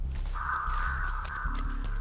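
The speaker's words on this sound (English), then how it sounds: "Why are the birds getting scared twice?" Crows caw in the Dead by Daylight horror video game: one long, harsh caw and then a couple of shorter calls, close and clear over a low background hum.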